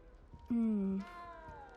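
A cat in the castle grounds of Hogwarts Legacy gives a single clear meow of about half a second, close and loud over a quiet background with faint game ambience.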